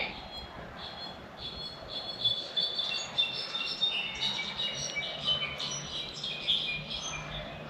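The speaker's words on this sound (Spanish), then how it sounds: "Escuchan los pajaritos." Small birds chirp and tweet in scattered, overlapping calls in a small wood in Tlalpujahua, Michoacán, against a steady outdoor background hum, moderately distant.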